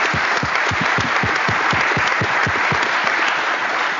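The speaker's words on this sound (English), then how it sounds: "So let's give Jen a round of applause." A round of applause from a conference audience at a board elections session, steady clapping from a sizable crowd throughout, fairly close and even in loudness.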